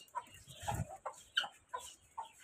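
Chinese hens cluck in a short series of sharp, distinct calls, several birds close by with brief pauses between each cluck, no talking over them.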